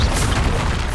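A single deep, rumbling Expulso spell blast in the Hogwarts Legacy game, a loud, broad explosive boom that fills the moment without any talk.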